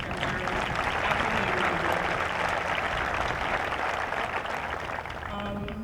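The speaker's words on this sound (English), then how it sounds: "Give them one more round of applause." Sustained applause from a large audience at a Class of 2020 graduation ceremony, a steady dense wash of many hands clapping at even loudness throughout, honouring school staff.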